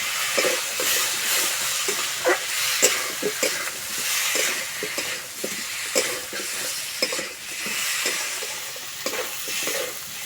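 Spice masala frying and being stirred in a pan for a fish curry with potatoes, giving a steady close sizzle broken by repeated scraping stirs throughout.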